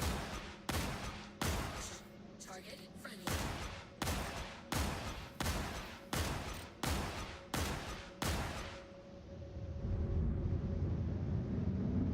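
A rapid run of about a dozen heavy, booming blasts from missiles launched in the space game Star Citizen, evenly spaced and loud, then fading into a low rumbling drone.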